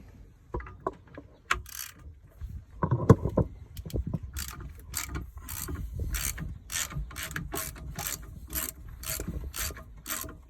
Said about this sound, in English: This is a 9/16. So I'm gonna undo these bolts.